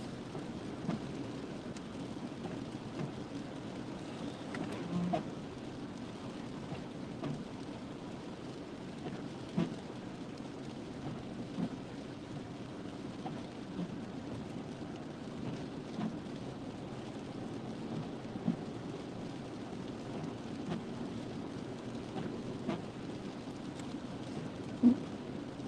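Steady rain falls during a winter storm with snow on the ground, a continuous soft hiss broken by occasional louder drips and taps on nearby surfaces, with no voices.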